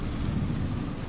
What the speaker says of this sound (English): Ooh, it's raining.